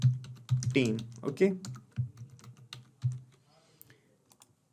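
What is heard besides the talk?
typing on a computer keyboard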